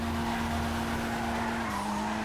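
A Toyota AE86 drifting in GTA Online, with a steady engine drone and continuous tire squeal, loud and close, holding one pitch that drops slightly near the end.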